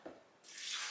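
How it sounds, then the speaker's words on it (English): Water pouring into a blender jar for homemade almond milk, a short, soft splash that swells into a steady hissing stream and keeps running, quiet and close. "Then I'm going to fill my blender up with"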